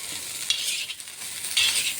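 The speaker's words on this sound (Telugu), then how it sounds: "రైస్ వేసుకొని మొత్తం ఒకసారి కలుపుతూ ఉండాలండి." Chicken fried rice being stirred and tossed in a hot pan in a street-style kitchen, a steady scraping and sizzling that swells in two louder pushes, with no one talking.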